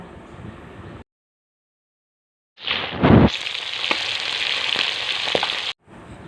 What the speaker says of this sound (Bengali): একই রকমভাবে আমি সব মাছগুলি পলট পালট করে ভেজে নেব